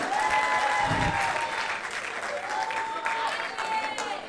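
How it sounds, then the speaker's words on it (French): Audience applause at a Miss Rondes et Jolies beauty pageant in Gabon rings out steadily for a contestant, with scattered cheers and whistle-like tones over the dense clapping throughout. "Sous vos applaudissements, s'il vous plaît."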